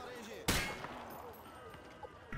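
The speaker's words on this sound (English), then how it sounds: "Grab that weapon off the table and fire at the targets behind you." A single sharp gunshot rings out on a target range in the video game Call of Duty Modern Warfare 2, a loud close blast that decays into quieter game ambience.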